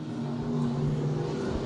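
Stock cars race down the front straightaway, three wide, with a loud, sustained engine roar holding a steady droning tone throughout, close and continuous.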